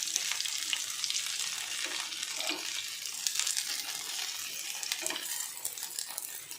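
Aval (flattened rice) cutlets fry in a pan after being flipped, giving a soft, steady, fine-grained sizzle with faint scattered crackles throughout.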